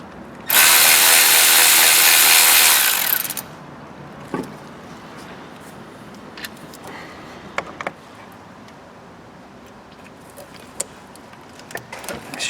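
A power ratchet spins out a bolt from the water pump of a Toyota Auris, giving a loud continuous whir for about three seconds, followed by quieter clicks and handling knocks.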